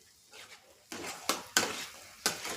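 A spoon stirs sweet potato and carrot halwa in a pan, giving several sharp scraping clinks spaced irregularly, close and fairly quiet.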